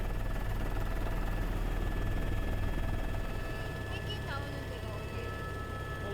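A reconnaissance helicopter over Antarctica's Cape Burks gives a steady, low, buzzing drone that eases and thins partway through, with a voice speaking over it.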